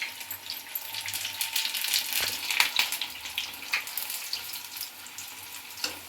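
Green chillies for mirchi bajji frying in hot oil, giving a steady bright sizzle with scattered crackles and pops that stays moderately loud without any talking.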